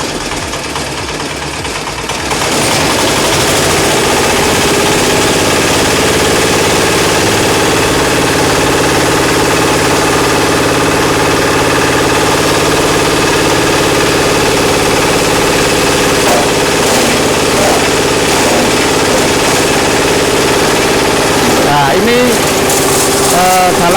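A forage chopper machine for making goat silage runs loud and steady up close, a continuous mechanical engine drone that kicks up after a brief start, with a voice talking underneath.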